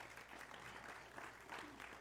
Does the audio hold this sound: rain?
no